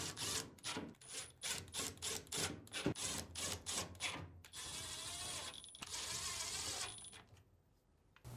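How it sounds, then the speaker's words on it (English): Screws are driven back into the front panel of an appliance during a repair: a rapid run of close, evenly spaced clicking ratchet sounds, followed by a longer steady whirring burst and a few final clicks. "Then, reinstall the 6 screws."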